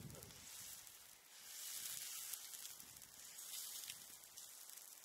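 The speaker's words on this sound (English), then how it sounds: "I got the fire roaring again" A campfire burns under an iron frying pan outdoors in the Newfoundland wilderness, giving a continuous close, soft crackling hiss with faint sizzling that swells slightly midway.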